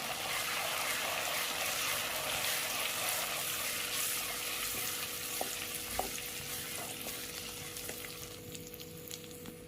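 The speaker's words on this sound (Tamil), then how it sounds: "இந்த எண்ணெயிலே நல்லா வறுத்துக்கலாம்." Curry leaves sizzling and spitting in hot oil in a pan while cooking kara kuzhambu, a steady bright crackle throughout with a few sharper pops near the end.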